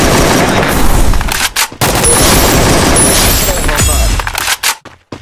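Loud bursts of gunfire from the video game CS crackle in rapid, clustered volleys with brief gaps between them, ending in a few scattered shots.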